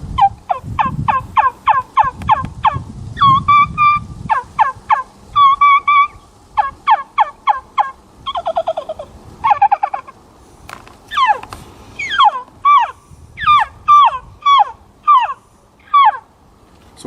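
Slate turkey call played with an antler-tipped striker of black walnut and pear, giving rapid runs of sharp yelps and clucks in bursts, clear and close with no talking.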